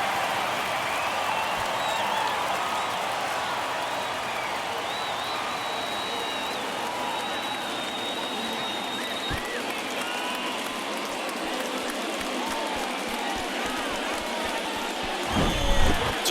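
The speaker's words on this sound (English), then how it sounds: "That fires up the home crowd, and we're all square." A baseball stadium crowd roars and applauds after a game-tying home run, a dense sustained wash of cheering and clapping that holds steady and swells again near the end, with no voices standing out.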